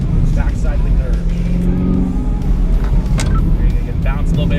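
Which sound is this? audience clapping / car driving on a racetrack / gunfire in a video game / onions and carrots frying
car driving on a racetrack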